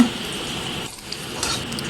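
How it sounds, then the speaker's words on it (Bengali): Potatoes, green chillies and turmeric fry in hot oil with a constant close sizzle, broken by a brief dip and light stirring scrapes in the pan. "হলুদ দিয়ে ভালোভাবে এটা একটু ভেজে নেব।"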